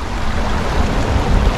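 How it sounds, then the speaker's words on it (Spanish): Flowing river water outdoors at the river near Capula, Chiquilistlán: a loud, steady broadband rush of water, close and continuous with no voices over it. "este es el río de Capula"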